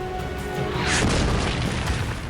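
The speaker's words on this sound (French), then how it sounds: "Les canons antichars allemands sont parfaitement positionnés en forme de V" A deep, heavy boom of German anti-tank gunfire rolls out over a constant low rumble, followed by a lingering crackling roar.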